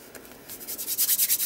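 Spirit-based glue being rubbed off a mixed media collage journal page, heard as a close, rhythmic series of dry rubbing strokes that grow louder and faster toward the end.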